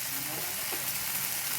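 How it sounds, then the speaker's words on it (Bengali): Tomatoes frying in oil in a pan while being stirred for a home-style handi chicken, giving a steady, close, dense sizzle that runs without a break and has no voices over it. "যতক্ষণ না টমেটোটা ভালো করে সেদ্ধ হয়ে যাচ্ছে, ততক্ষণ এটাকে নাড়তে থাকবো।"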